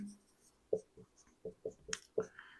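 Pen writing out a Class 12 maths integration solution with logarithms, heard as a series of short, close scratchy strokes with brief pauses between them, quiet and with no talking.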